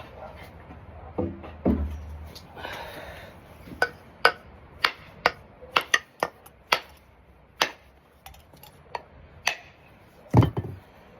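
Ball peen hammer striking an axe head during axe handle fitting, a series of sharp metallic taps at irregular intervals, mostly single blows a second or so apart, close and clear with some faint movement between strikes.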